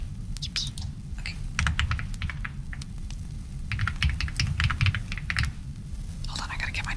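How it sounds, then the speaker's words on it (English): Rapid computer keyboard typing in short bursts and pauses, close and crisp, over a low warm crackle of a cozy fireside setting. "More keyboard typing."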